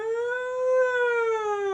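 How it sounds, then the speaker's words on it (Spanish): A single siren wails steadily and alone, its tone rising slightly and then falling back over a couple of seconds at moderate loudness. "un ruido de sirenas"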